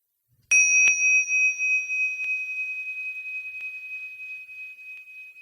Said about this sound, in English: when you hear the bell, we can finish.